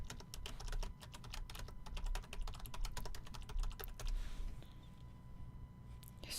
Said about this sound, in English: let me type this.